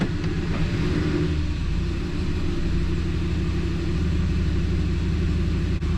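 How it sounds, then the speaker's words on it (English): A 2003 Ford F-150 engine idles steadily after an idle air control valve replacement, giving a continuous low rumble that stays even and close throughout with no revving. "Idle's much better. Stays running, obviously that's a bonus."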